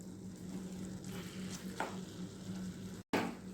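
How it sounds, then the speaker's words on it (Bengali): Banana flower mixture with chana dal sautéing in a pan, a soft continuous sizzle with faint stirring scrapes, fairly quiet and steady throughout. "এটাকে খুব ভালোভাবে আমি কষিয়ে নেব"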